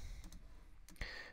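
A computer mouse gives a few quiet, sharp clicks, spaced irregularly, close by against a faint background.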